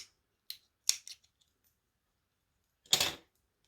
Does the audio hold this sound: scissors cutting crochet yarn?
yes